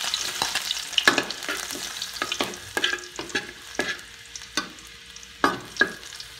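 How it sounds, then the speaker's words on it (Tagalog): Garlic sautéing in hot cooking oil for squid adobo, a steady close sizzle broken by frequent sharp scrapes and taps of a utensil stirring in the pan, with no voices. "Una namin igigisa ang bawang."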